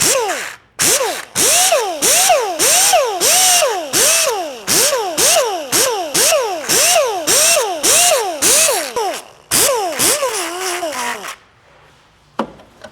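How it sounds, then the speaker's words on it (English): A handheld grinder works over the sandblasted back of a car body molding for an eyebrow install, whining loudly in repeated rising strokes that each cut off briefly, then spinning down to near silence. "Take and clean it up just a little bit more with the grinder."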